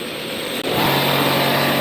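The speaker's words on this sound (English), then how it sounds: "There's our lovely noisy compressor again." A loud, steady roar of an air compressor running continuously for a laser cutter, broadband and droning, with a low hum joining partway through.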